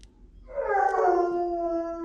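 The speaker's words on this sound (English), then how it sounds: "There's that hound dog." A hound dog howls in a single long, rising then sustained tonal cry at a veterinary clinic, close and clear against a quiet room.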